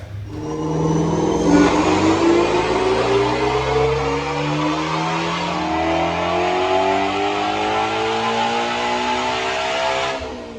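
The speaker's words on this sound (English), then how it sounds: "Check out these dyno pulls" A 2019 Ford Mustang GT350 with a Whipple supercharger revs hard on a dyno, pitch climbing steadily through a long pull with a whining supercharger tone, then cuts off abruptly near the end.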